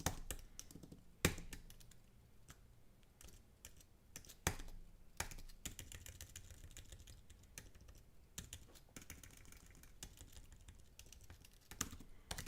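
Rapid, uneven clatter of keys on a mechanical computer keyboard, with bursts of quick strokes and occasional louder taps, close and alone.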